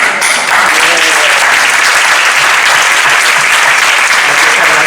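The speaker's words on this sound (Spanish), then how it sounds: "yo el primer aplauso de la tarde hoy os le quería dar a vosotros" A lecture audience at a public talk on the history of Aranjuez, Spain, breaks into loud, dense applause that starts abruptly and holds at a constant roar of many hands clapping close by.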